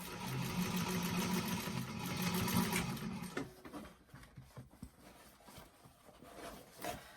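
A sewing machine stitches a bag, running steadily for about three seconds before stopping, followed by quieter handling and rustling sounds, close by.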